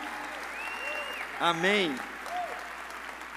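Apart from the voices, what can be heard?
church congregation applauding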